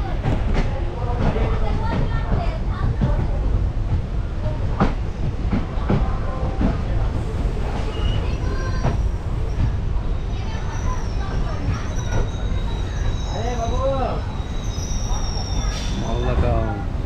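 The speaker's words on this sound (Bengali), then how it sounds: "একদম নির্ধারিত সময়ের থেকে 2 মিনিট লেটে আমাদের এখান থেকে মালদা থেকে ট্রেন ছেড়ে দিল।" A Malda–Azimganj passenger train pulls out of Malda, its steady rumble and clatter of wagons filling the whole stretch, with scattered squeals and a voice speaking over the running noise.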